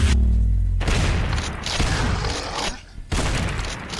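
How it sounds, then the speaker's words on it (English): Grenade blasts in the video game Dread Templar: a heavy booming explosion followed by rumbling gunfire and debris, loud and close, with a brief gap before another blast. "He's throwing grenades in."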